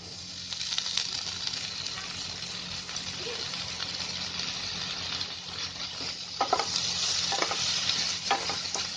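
Green peas with a little turmeric fry in a pan for quinoa upma, giving a steady soft sizzle throughout, with occasional scraping stirs against the pan toward the end.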